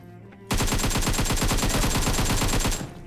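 Sustained automatic gunfire in PUBG on the Erangel map, a rapid unbroken burst of shots lasting a couple of seconds, loud and close before cutting off.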